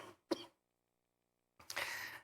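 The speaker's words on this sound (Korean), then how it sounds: "기침이 납니다." Coughing from a man with asthma, brought on by a cold and breathing cold air: one short sharp cough, a brief pause, then a longer rough burst of coughing, close and fairly loud in a quiet room.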